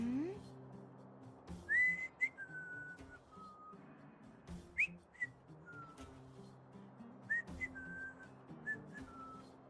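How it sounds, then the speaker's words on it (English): Someone whistles a few short gliding phrases over a quiet, murmuring Honkai: Star Rail soundtrack, with soft thumps between phrases. "Wow, you whistle so well."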